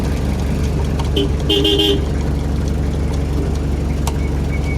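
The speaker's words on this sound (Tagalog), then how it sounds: "Palyado yung ano busina." A couple of short, weak toots from the faulty horn of an owner-type jeep sound over a steady rumbling engine, close by and fairly loud.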